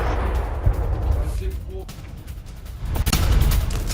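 Missile strike on a target in Kyiv during a Russian attack, setting it on fire, heard as a few heavy booming blasts and rumbling over noisy background, with voices mixed in.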